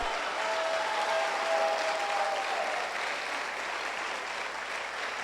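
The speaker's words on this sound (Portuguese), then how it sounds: "Aplauda mesmo, porque é verdade." A church congregation applauding during a gospel sermon about prosperity, a soft, steady wash of clapping heard from a distance with a faint tonal whine near the start.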